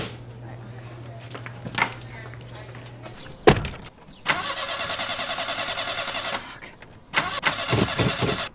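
A car door thumps shut, then the engine cranks and catches in a sustained whirring burst, goes briefly quiet, and revs again near the end, with a few faint knocks and clicks beforehand.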